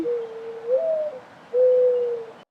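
A dove coos softly and steadily, two drawn-out low calls with a slight rise in pitch, against faint background hiss.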